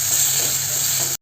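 Tomatoes and curry leaves sautéing in a pan for a Thrissur-style sardine curry, giving a steady close sizzle and hiss that runs on evenly, then cuts out abruptly near the end.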